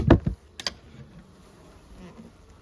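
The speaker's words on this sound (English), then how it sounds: "Looks like these bees are just hanging out for now until I make them upset." A low honey bee buzz hums faintly and steadily around a hive, with a few brief knocks and thumps near the start.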